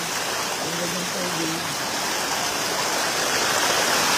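Water from Tungtong Falls river, fed by springs rising from below, rushes in a steady, dense broadband wash, loud and continuous like a nearby stream or cascade, with no break in the flow.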